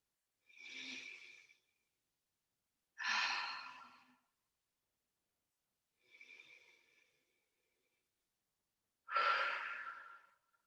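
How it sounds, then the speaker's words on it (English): Four slow, deep breaths during a mobility exercise session, each a long airy whoosh in or out lasting about a second, separated by quiet pauses, close and clear with no talking. "So big breath in, really think about filling the body up with air. Breathe out and empty out every last little drop of air."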